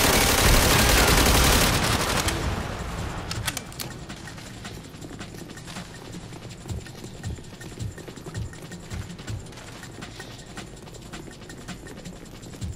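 Rapid bursts of gunfire and mechanical weapon clatter from the World War II shooter Call of Duty: World at War, fired in a tunnel fight, loud and dense at first, then settling into scattered sharp shots over a steady background din.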